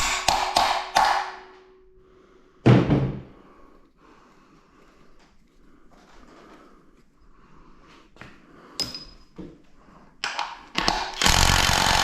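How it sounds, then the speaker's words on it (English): A ratchet works a bolt loose on an EcoTec engine during teardown, giving sharp metallic clicks and bursts near the start and end, with a quieter stretch of faint handling noise between them. "Probably need to break this loose with the ratchet first"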